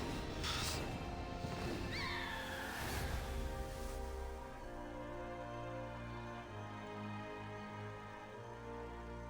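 A horse whinnies in the video game Wo Long: Fallen Dynasty, one brief neigh near the start against a dense, constant bed of game music and effects.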